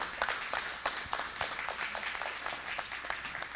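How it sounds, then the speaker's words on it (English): A short round of applause from a panel audience at a mindfulness event, many hands clapping in a brisk, fairly close and moderately loud burst with sharper individual claps standing out. "If you could give them a round of applause."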